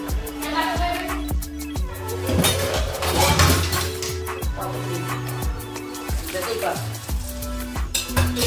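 Pots, pans and dishes banged and clinked together in a home kitchen, a steady run of sharp metallic knocks and rattles close by, with some voices in the background.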